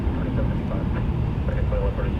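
American Airlines Boeing 787-8 taxiing at DFW Airport, a steady low engine rumble held throughout at close range, with a voice talking faintly underneath.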